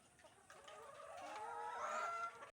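Gamefowl stags and broodcocks at a game farm cluck and call while feeding, a faint rising and falling vocalisation lasting a couple of seconds at moderate distance over quiet background.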